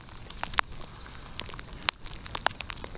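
Light rain pattering on a surface at Braunig Lake in July, with scattered sharp drips and crackly taps over a soft steady hiss.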